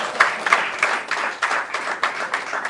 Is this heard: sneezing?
no